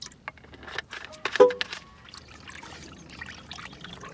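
Water trickles and splashes into a bucket being filled for a car wash solution, loudest around one brief surge before tapering to a faint, steady dribble, with no talking.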